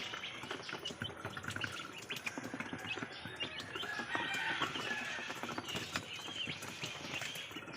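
Continuous high-pitched peeping and cheeping from many chicken chicks, a busy chorus with scattered clucks, steady and fairly close.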